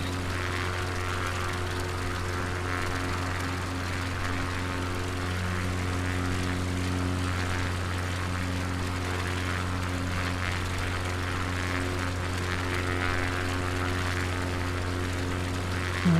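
Steady droning hum of a propeller aircraft engine throttled back in Microsoft Flight Simulator 2020 during a Patagonia bush trip, a constant loud tone holding evenly with no talk.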